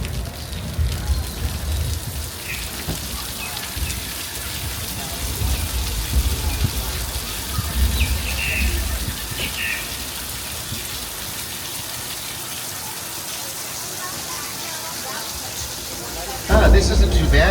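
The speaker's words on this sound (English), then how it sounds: "now we got some rain." Simulated rain pours during a Universal Studios back lot tram tour effect, a dense continuous hiss and rush of water, with a louder surge at the end.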